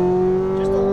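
Ferrari 458 Italia V8 engine pulling hard on a racing circuit, a steady loud tone holding near and continuous under light throttle with no talk over it.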